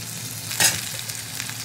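Potatoes and eggplant frying in a pan, with one short burst of sizzling and stirring partway through over a steady, low background hiss.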